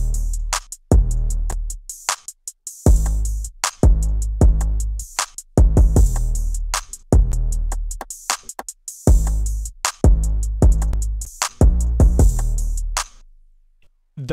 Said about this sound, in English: if you listen to this 808 pattern, it sounds like this.